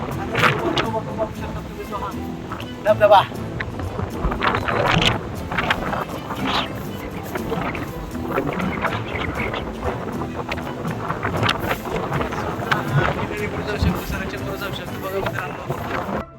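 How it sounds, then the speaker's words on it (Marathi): Wind blows across a hill fort, Bhivgad near Karjat in Raigad, as a steady broadband rush buffeting the microphone throughout, with voices nearby. "हवा सुटली हवा"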